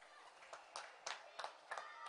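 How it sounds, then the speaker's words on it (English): A crowd at a park premier league cricket match applauds a batsman walking back after his innings of 42, a thin scattering of claps heard faint and distant, with no speech. "Anuj Goyal returns to a good round of applause, almost getting that half century"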